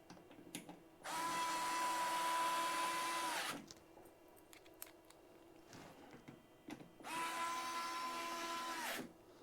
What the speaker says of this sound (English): whack all these extra screws back in, and then get all of these tightened up